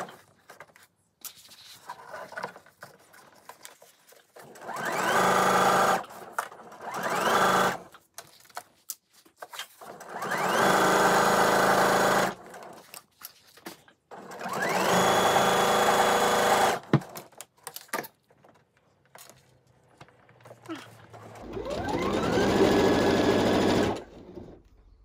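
A sewing machine stitches a tote bag seam in five separate runs of steady, fast whirring, each a few seconds long with quiet pauses between them, close and clear.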